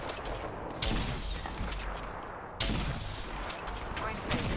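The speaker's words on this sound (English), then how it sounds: "I'm getting shot at." Rapid gunfire in a ranked arena match of the video game Apex Legends, dense continuous bursts with two sharper loud onsets, a busy near-field firefight without clear talk.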